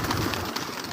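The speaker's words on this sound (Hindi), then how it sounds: "ये देखें कबूतर माशाल्लाह से खुद उठ के तावा ले रहा है।" A pigeon gives a brief, soft coo close by against a noisy background.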